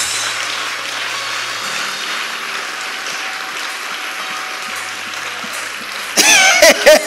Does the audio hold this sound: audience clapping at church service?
yes